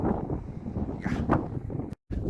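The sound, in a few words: strong wind on a mountain trek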